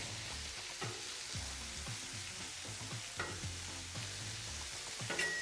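Cheesesteak meat cooking on a Blackstone griddle gives a steady, close sizzle, broken by repeated spatula scrapes and taps as the meat is spread and turned.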